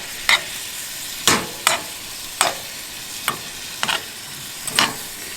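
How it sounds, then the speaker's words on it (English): Shrimp cook in a pan for a tailgate shrimp and grits breakfast, with a soft frying hiss under a handful of sharp utensil scrapes and stirs spaced a second or so apart. "And shrimp cook up pretty quick."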